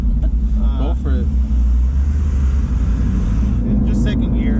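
A 2017 Mustang GT with the Coyote 5.0 engine and Borla exhaust pulls hard in second gear, a loud deep exhaust rumble rising steadily from inside the cabin, with brief voices over it.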